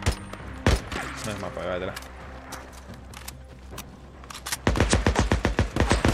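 Gunfire in the Days Gone video game, scattered shots early, then a rapid, loud burst of repeated shots near the end, with someone talking over the action.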